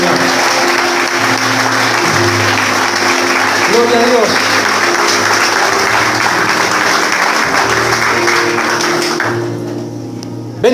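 A church congregation at a Pentecostal service applauds loudly and continuously, dense clapping layered over sustained organ or keyboard chords, with a voice calling out briefly before the sound drops away near the end.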